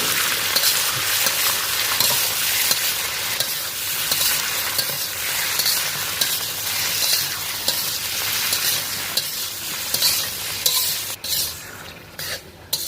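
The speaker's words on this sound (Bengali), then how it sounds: "মাংসটাকে ভালো করে কষিয়ে নেব।" Bone-in chicken pieces, about 500 grams, sizzle and fry in a pan while being stirred over medium-high heat, a steady loud frying hiss with scraping stir sounds throughout and no talk.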